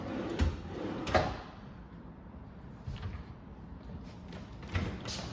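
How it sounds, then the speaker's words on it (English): Kitchen drawers opened and shut one after another during a make-ready inspection, giving a few separate sliding knocks and thumps spaced across the moment, close by with no talking. "I'm going to open up all of the drawers to see if there's any that I need to replace"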